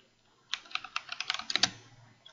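Typing on a computer keyboard while entering a topic for a new Zoom meeting: a quick run of about a dozen crisp, close key taps after a brief silence, ending with a slightly louder final press, with no talk.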